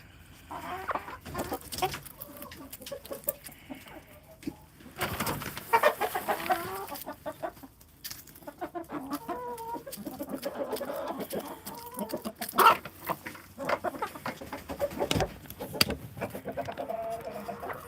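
Chickens cluck and squawk steadily over a busy, noisy background, with bursts of handling noise and occasional louder calls, close to the microphone and continuing throughout with no one speaking.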